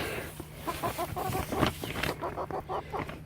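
Frizzle and Cochin bantam hens cluck in short, quick, overlapping bursts near a mobile coop, a busy flock chattering closely at moderate volume with no speech.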